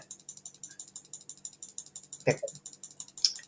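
Rapid manual mouse clicking during an Anime Vanguards game session, a steady rhythmic patter of close, crisp clicks running throughout, with a brief soft knock midway and no talking.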